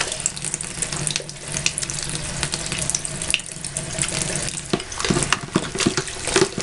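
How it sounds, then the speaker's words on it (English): Running water splashes from a tap as hands are washed with lathering soap, a steady close gush with irregular wet rubbing and splatters and no talking. "Now I'll be doing a test with washing your hands"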